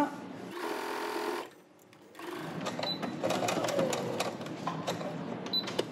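A sewing machine runs a French seam along a fabric edge, a fast close rattling hum that briefly pauses and then resumes with uneven bursts, while someone speaks over it.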